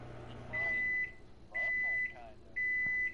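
A microwave oven beeps three times in a steady, evenly spaced pattern, each tone clear and sustained over a quiet room hum with faint background talk.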